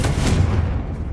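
A Confringo spell in a Harry Potter video game bursts inside an abandoned mine tunnel, giving one loud booming explosion that rumbles and fades over about a second.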